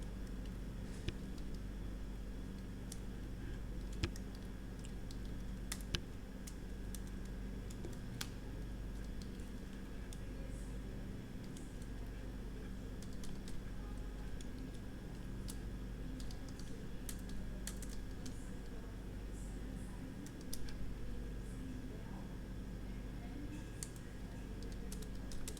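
Steady typing of HTML code on a computer keyboard, quiet rapid clicks throughout against a low background hum.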